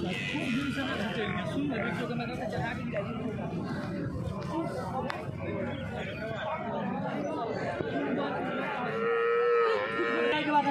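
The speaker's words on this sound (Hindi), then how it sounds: "काफी बेहतरीन और शानदार हाइट और लेंथ की ये भैंस है" Water buffalo at a busy Madhaul livestock market low and moo repeatedly through the clip, close and loud, over a steady crowd babble and nearby chatter of people talking.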